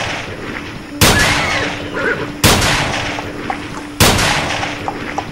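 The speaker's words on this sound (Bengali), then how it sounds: "বন্দুক ছোঁড়ার শব্দ তখনও পাহাড়ের কোলে ধাক্কা খেয়ে খেয়ে ফিরছিল।" Three loud, sharp gunshots crack at spaced intervals among hills, each followed by a long rolling echo that fades slowly before the next shot.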